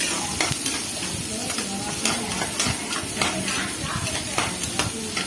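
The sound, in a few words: stirring vermicelli (semiya) frying in a pan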